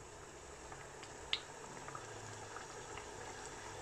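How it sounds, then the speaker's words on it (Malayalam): Prawn roast masala boiling on a high flame, a faint, steady simmering hiss with soft bubbling and one brief pop, with no talking. "ഇത് ഹൈ ഫ്ലെയിമിലിട്ടിട്ട് നമുക്ക് തിളപ്പിച്ചെടുക്കാം."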